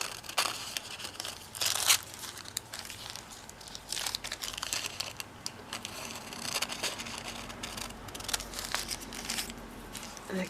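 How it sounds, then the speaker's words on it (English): Paper being cut along an edge for a collage, with crinkling and rustling sheets and crisp snipping close by, continuous and irregular, without speech. "I'm just going to cut right along the edge here."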